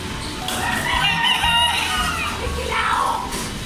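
At a hobby expo, a voice imitates a rooster crowing, a drawn-out wavering cock-a-doodle-doo, loud and close.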